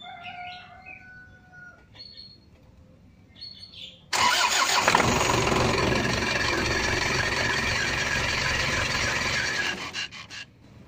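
A car engine cranks and fires after a quiet stretch with faint bird calls, then idles loud and steady for several seconds before being shut off.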